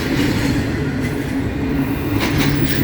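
A freight train with a distributed power locomotive passes close by, a continuous heavy roll of wagons with rhythmic clickety-clack over the rails.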